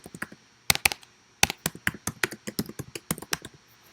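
Rapid, uneven clicking of typing on a computer keyboard, with a few sharper key strikes among lighter taps. It is close and unaccompanied by talk.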